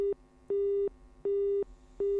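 A telephone line tone sounds while a call is being placed: a steady, loud single-pitch tone repeats in short bursts of about a third of a second, separated by equal gaps of silence, in an even, regular rhythm.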